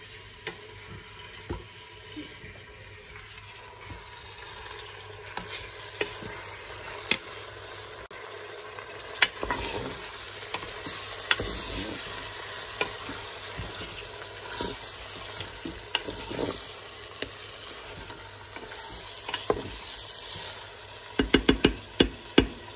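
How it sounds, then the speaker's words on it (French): Tagine spices stirred with cinnamon sticks in a Cookeo pot, with ginger and turmeric mixed in, making a steady close scraping and swishing that runs continuously, with a few sharper clinks near the end and no voices. "Je viens remuer le tout."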